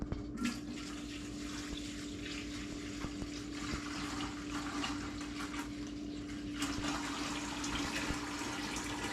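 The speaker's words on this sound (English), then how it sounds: "One thing I've learned from pouring the water is not to splash it off the top of the filter elements" Water poured by hand into the top of a gravity water filter indoors, a faint, continuous trickling and splashing with a steady low hum beneath, lasting several seconds.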